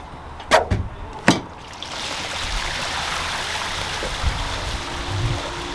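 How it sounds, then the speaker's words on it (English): An RV black tank drains through a dump station hose: a couple of sharp clunks from the lever, then a steady rushing gush of waste water flowing continuously, close and loud. "We're going to let the black tank drain all the way and then we'll let the gray tank finish draining"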